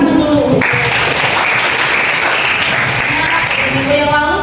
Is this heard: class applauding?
yes